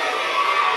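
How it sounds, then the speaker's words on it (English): Excited children in a pantomime theatre audience arriving, a dense, loud crowd roar of shouting and cheering voices filling the brief moment with no single voice standing out. "that is the sound of our first audience coming in."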